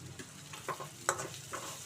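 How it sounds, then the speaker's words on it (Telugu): Spices fry in a pan while being stirred for pasta, a faint soft sizzle broken by light scraping strokes and small clinks of a utensil, quiet and close. "ఈ స్పైసెస్ అన్నీ కొంచెంసేపు వేగనిద్దాం, మాడిపోకుండా."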